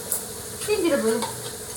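Crab curry frying in hot oil gives a soft, close sizzle, with a few quick stirring scrapes and clinks from the pan over a brief moment.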